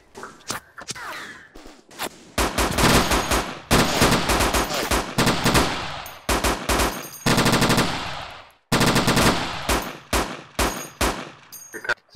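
Machine gun fire in the Iron Front combat game, set in a fog-covered unloading zone: loud, close rapid bursts repeat with brief gaps between them, and rattling volleys continue for the whole stretch.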